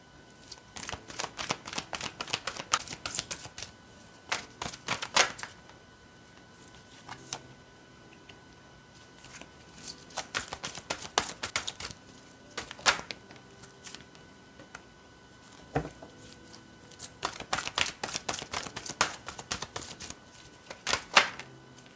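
Tarot cards are shuffled in three separate spells of quick, crisp, clicking riffles, each lasting a few seconds, with quiet gaps between them.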